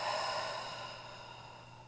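A slow, deep exhale through an open mouth during a yoga session, one long soft airy breath that starts fullest and gradually fades, close and quiet, with no talking.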